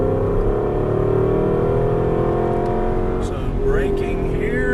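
An Aston Martin V8 Vantage driven hard on a race track, its V8 engine holding a loud, close, steady droning roar under throttle over a hill, with a slight shift in pitch near the end.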